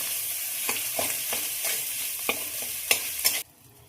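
Potatoes frying in ghee with ginger and chili while being stirred in a pan: steady sizzling under repeated rhythmic scraping strokes that stop abruptly, leaving near silence.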